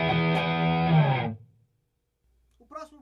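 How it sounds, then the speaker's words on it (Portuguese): Dry overdriven electric guitar through a Zoom MS-800 pedal simulating a Marshall JCM800, with bass, mid and treble set at the midpoint. A loud, harmonically rich chord sustains for about a second and a half, then fades to silence before a faint, brief noise near the end. "Esse é o som do drive seco."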